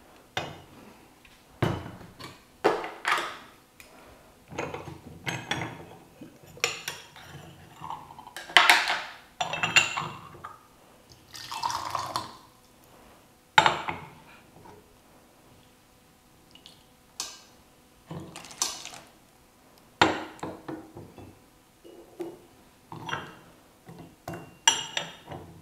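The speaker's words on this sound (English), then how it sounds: "I love to rinse all my tea wares before I get started." Gongfu tea wares are rinsed with water, giving scattered porcelain clinks, taps and splashing pours at close range in a quiet room.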